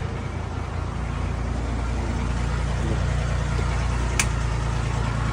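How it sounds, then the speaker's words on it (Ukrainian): Steady low engine drone of a John Deere Orion 404, a compact 40-horsepower four-wheel-drive tractor with a cab, running continuously and close by, with a brief sharp click near the end. "отакий джондірчик Оріон 404 із кабінкою"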